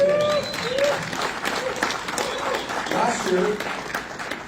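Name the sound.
audience applause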